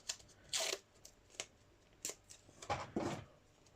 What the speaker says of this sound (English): We're going to get some of our good old friend masking tape here